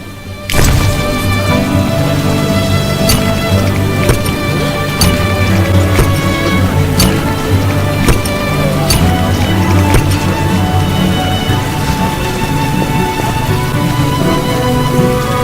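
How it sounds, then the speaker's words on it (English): Heavy rain in The Witcher, a steady loud downpour hissing across the whole clip with scattered sharper drips and taps on surfaces, and no talk over it. "Some serious rain."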